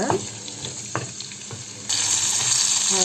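Masala-coated vegetable pieces fry in a pan with a soft, steady sizzle, broken by a few light clinks of a spoon, and the sizzle grows louder and hissier partway through.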